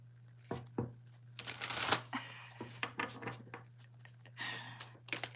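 Tarot cards are shuffled close by in short riffling bursts and soft slaps, with pauses between and a steady low hum underneath.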